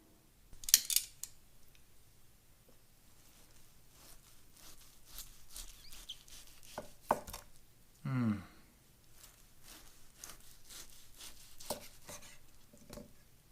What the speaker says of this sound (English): Then we're going to cut into it.